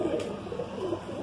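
A Madrasi-Punjabi cross pigeon gives a brief, soft, close-up coo, a short rolling call under a steady background hum.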